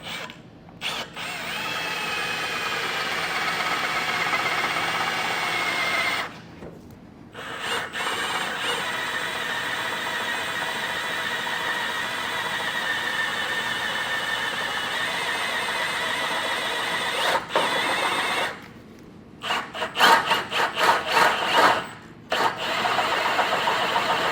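A power drill bores up through the frame of a 2024 Ford Escape while a base plate is fitted, giving a long steady whine close by with brief pauses and a burst of ratcheting, stuttering bites near the end, no talking.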